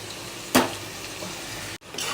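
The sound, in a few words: ground onion paste frying in oil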